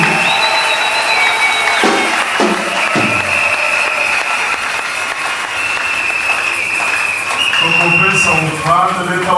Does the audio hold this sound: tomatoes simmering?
no